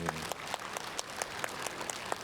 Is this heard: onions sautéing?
no